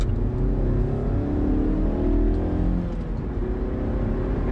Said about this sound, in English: I hear a little bit more intake noise, but it's really not as substantial as I was hoping it would be.